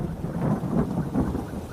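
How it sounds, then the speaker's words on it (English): A deep, rolling rumble of thunder, loud and continuous, with heavy rain hissing underneath throughout. "It wasn't my alarm that woke me up, it was thunder."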